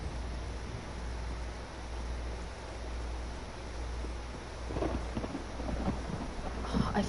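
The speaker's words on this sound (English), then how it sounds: "I fucking love the rain in this game." Steady rain pours in The Elder Scrolls Online, a dense continuous hiss with a low rumbling undertone of thunder, loud and enveloping, with no talking.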